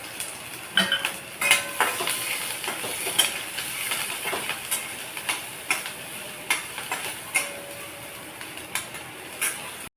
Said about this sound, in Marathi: आता तेल गरम झालं त्यात आपण टाकून घेऊ मिरच्या